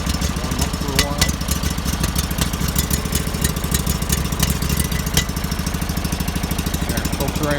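A small gasoline engine idles steadily on choke while warming up, a continuous close, loud chugging hum with even rhythm throughout, overfueling slightly.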